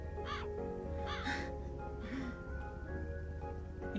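Crows cawing in the video game Calico, a few harsh caws spaced over several seconds against a steady background game soundtrack.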